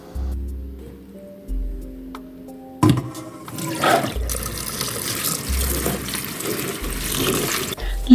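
Running water splashes steadily into a sink as soaked rice and lentils are rinsed in a home kitchen, a continuous hiss and spatter over soft background music.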